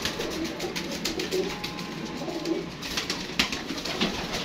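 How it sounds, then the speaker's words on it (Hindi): Several white pigeons coo softly and repeatedly close by, low throaty calls overlapping against a busy background with faint rustling and clicks. "ये देखें वाइट कबूतर का करवाएं शो।"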